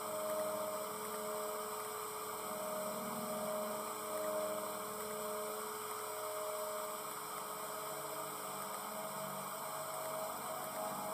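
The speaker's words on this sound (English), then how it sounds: "I just overheated the vent" Overheated vent in Five Nights With Mac Tonight droning with a steady, faint electrical hum and faint static, unbroken throughout with no other sounds.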